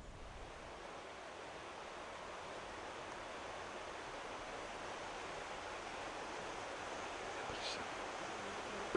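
Flowing water of the Curueño river, a steady broad rushing hiss mixed with a faint wind rumble, constant and fairly distant, with no talk.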